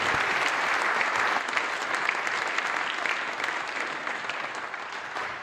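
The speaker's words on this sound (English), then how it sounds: "Let's give Galway a huge round of applause" Audience applause at a Fields of Life charity event in Galway, a dense, steady wash of many hands clapping that holds loud for several seconds and eases slightly toward the end.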